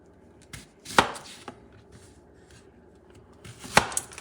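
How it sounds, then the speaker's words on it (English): A kitchen knife slices through food on a cutting board, two sharp chops landing about three seconds apart, close and fairly loud against a quiet room, during preparation of Puerto Rican bistec encebollado with tostones. "Then I'm going to cut in half,"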